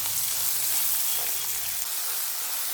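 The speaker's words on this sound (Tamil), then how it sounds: "வெங்காயத்தை நல்லா வதக்கணும்." Two finely chopped large onions sizzle in hot oil with cumin seeds in a pan, a steady close hiss of frying with soft crackling, continuous and alone without talk.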